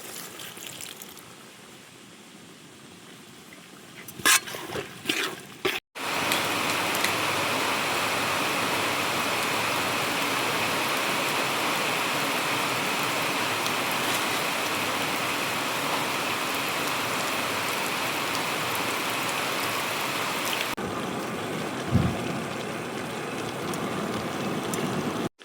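Chicken gizzards simmer in water for a gizzard fry, a steady bubbling hiss lasting about fifteen seconds, bracketed by brief clatters and quiet stretches.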